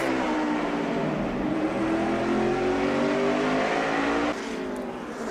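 Onboard NASCAR-style race car engine in a racing video game at Napa, a steady loud high-revving drone holding pitch for several seconds, easing slightly near the end.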